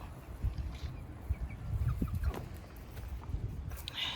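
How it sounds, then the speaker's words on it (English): Chickens on a farm cluck faintly and sporadically at close range over a steady outdoor background, with a few brief, higher calls rising above the low rumble. "the chickens tend to want to come and drink out of it"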